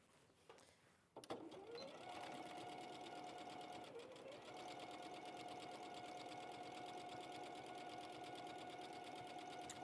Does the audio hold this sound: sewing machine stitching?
yes